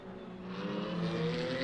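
Race car engine in the VR racing game Le Mans Ultimate, a faint rising whine as another car goes through and passes by over about two seconds.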